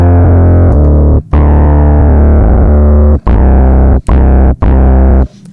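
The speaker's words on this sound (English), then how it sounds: "This is another thing that's kind of a classic is headphone jack to external signal in. It creates feedback distortion." A synthesizer whose headphone jack is patched into its external signal input gives a loud, heavily distorted feedback drone in sustained buzzing notes, broken by several short gaps, with deep low end and no voices.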